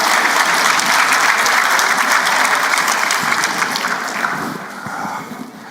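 A conference audience at a plenary session claps in a full, steady round of applause that gradually tapers off toward the end.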